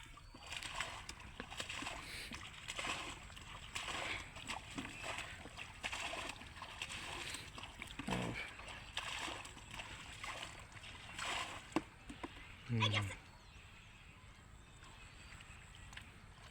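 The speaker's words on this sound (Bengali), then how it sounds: "আরেকজনে পানি সেচো।" Fishermen bail water by hand while catching fish in a village pond, giving repeated irregular splashes and sloshes at moderate distance with occasional louder scoops.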